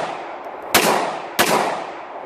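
Two sharp handgun shots fire outdoors, spaced a bit over half a second apart, each one a loud crack that trails into a decaying echo above steady background noise.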